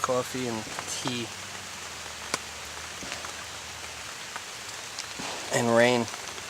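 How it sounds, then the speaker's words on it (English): Rain falls steadily at a campsite in a soft, constant patter, with brief voices near the start and end. "And rain."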